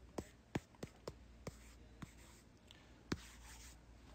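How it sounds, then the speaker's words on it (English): A pen stylus scratches out a handwritten word in a series of about eight short, crisp strokes and taps, close and clear over a quiet room hiss, with no talking. "since I have my sweet pen stylus thing, I'll just go ahead and write acceleration"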